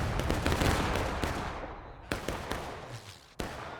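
A musket volley erupts in War of Rights on the Railroad Cut map, in a 250-player battle. A dense crackling burst fades into scattered sharp individual shots, some near and some farther off.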